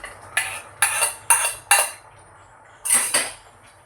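Metal pot lids clatter as pots of cooked food are uncovered one by one, five bright clanks and scrapes in uneven rhythm, close and fairly loud with quiet gaps between.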